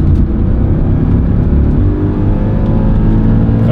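An Audi RS4 B7 pulls hard around a racetrack lap, its engine a loud, continuous, deep roar heard from inside the car, holding steady with a slight dip midway, no talking.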